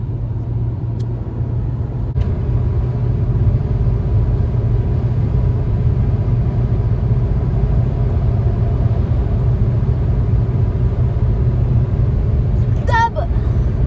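A steady low engine rumble and road drone fill the cabin of a moving car, continuous and close, with a brief sharp voice or squeak near the end.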